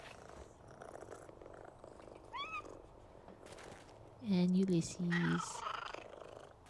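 Cats purr and meow in the video game PowerWash Simulator 2, soft rumbling under a person's quiet talk, with a couple of louder mewing calls near the end.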